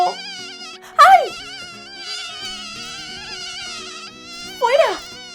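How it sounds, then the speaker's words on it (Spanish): A swarm of mosquitoes buzzes as a cartoonish, tonal whine in a forest setting, with steady layered drones and brief louder swells near the start and end. "¡Son mosquitos! ¡Y hay muchísimos!"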